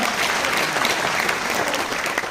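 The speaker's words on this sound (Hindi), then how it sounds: "जोरदार ताली बजाइए भैया।" Audience applause at a seminar-style talk, a loud, dense and steady clapping from a crowd that fills the whole stretch without pause.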